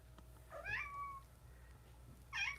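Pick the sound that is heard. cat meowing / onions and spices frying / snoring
cat meowing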